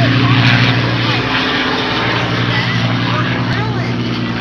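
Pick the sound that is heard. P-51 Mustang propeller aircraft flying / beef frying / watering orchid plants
P-51 Mustang propeller aircraft flying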